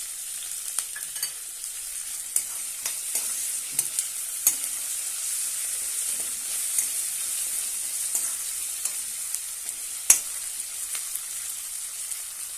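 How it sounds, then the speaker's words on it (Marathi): One tomato sautéing in oil in a pan for methi pulao, a steady bright sizzle throughout with occasional soft clicks and scrapes of stirring, no talking. "छानपैकी परतून घेऊया। एक टोमॅटो,"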